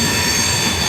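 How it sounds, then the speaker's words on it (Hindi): A train rolls along the tracks near Raichur Junction, a loud, steady rumble of wheels and carriages with a high metallic whine running through, continuous and close, with no talking. "रायचूर जंक्शन की तरफ से कोई तो ट्रेन आगे बढ़ रही है"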